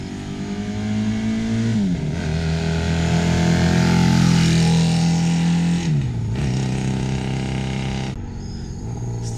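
Honda CB750 motorcycle, an engine that had been seized, running loud and close with a steady idle rising into revs and dropping back, a sustained rumbling drone with no talking.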